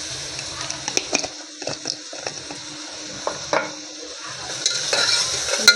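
Chopped onion and tomato roast in a pan with salt for an Arabian masala, giving a soft sizzle broken by scattered scrapes and clinks of a stirring spoon against the pan, close and fairly quiet.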